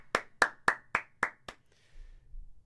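Six sharp hand claps in a steady rhythm, loud and close, followed by a low rumble of background noise.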